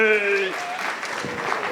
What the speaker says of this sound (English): start clapping your hands right now for Jennifer Hamady